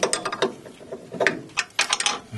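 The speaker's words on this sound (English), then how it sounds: "I use the nut to pull that bush into position" Wrench tightening a nut to draw a front suspension bush into place on a cross tube: a close, loud run of separate ratcheting clicks and metallic scrapes in short irregular bursts, with no talk.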